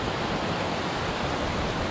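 Heavy rain-swollen waterfall at Kings House pouring steadily on a very wet day, a dense, continuous broadband roar with no let-up, close and loud throughout.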